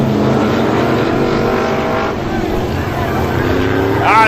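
Race cars roar at speed on a front straightaway during a big multi-car wreck, a dense continuous engine drone with crowd and commentary talk mixed over it.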